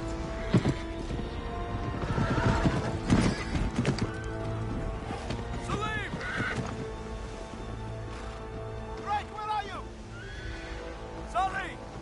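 Horses in a video game whinny sharply a few times over hoofbeats and clattering, with voices talking underneath at times.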